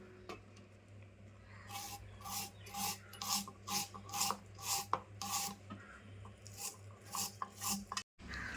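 Two onions being finely chopped for stuffed chilli filling, a steady series of rhythmic, close knife strokes rasping on a board, with short pauses between bursts.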